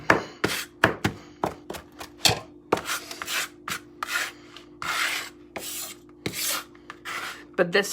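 Fresh parsley being chopped with a knife on a board, a rhythmic series of sharp, close taps and rasping cuts, irregular in spacing, with a few brief spoken words.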